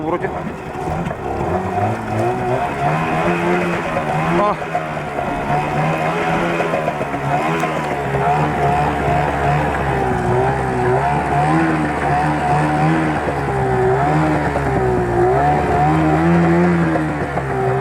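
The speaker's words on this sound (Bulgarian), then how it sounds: "Я тя наподай газ да видим обороти" A Yamaha 15 hp two-stroke outboard engine runs and is revved repeatedly, its pitch rising and falling in waves, loud and close, with people talking over it at times.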